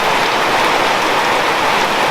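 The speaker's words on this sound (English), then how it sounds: "downpour has just commenced." Heavy rain pours down steadily during a thunderstorm, a dense, loud, continuous hiss of drops on surfaces with no other sounds.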